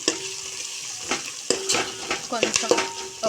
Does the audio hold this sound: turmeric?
yes